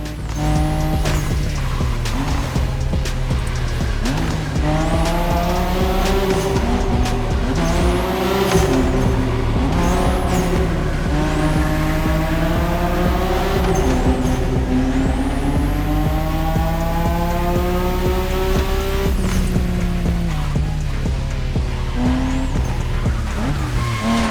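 A drifting car in The Crew Motorfest racing game, with a loud, sustained engine roar and long tire squeals that rise and fall through repeated slides.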